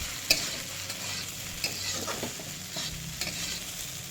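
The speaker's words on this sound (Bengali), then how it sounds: "এই আলুগুলো আমি দিয়ে দিয়েছি, ভাজা ভাজা হয়ে গেছে।" Potatoes fry in hot oil for sabudana khichdi, a continuous close sizzle broken by sharp stirring scrapes and clinks of a utensil against the pan.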